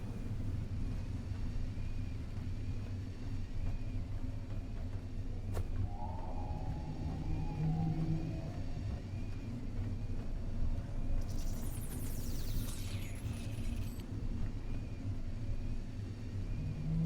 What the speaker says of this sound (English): Storm's clearing.